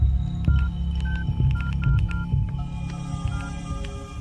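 A phone number is dialed on a telephone in a roadside dhaba, a quick run of short tones over a steady low hum, with faint background clatter.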